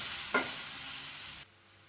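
Ripe plantain fries in ghee with a steady, soft sizzle and a brief stir of a utensil in the pan before the sound cuts off abruptly.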